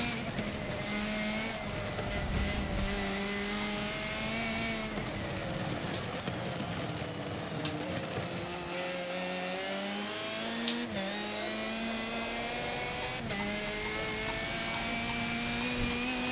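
A race car laps Brands Hatch in Forza Motorsport 7, its engine note climbing and dropping through gear changes and braking zones, steady and moderately loud throughout with no speech.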